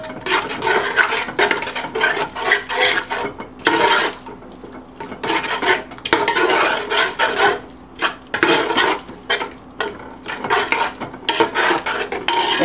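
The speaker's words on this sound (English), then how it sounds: "We'll get this stirred in." A spoon scrapes and stirs vegetable stock into a vegan green bean casserole in a pot, with repeated rhythmic rubbing and clinking strokes, close and fairly loud with brief pauses.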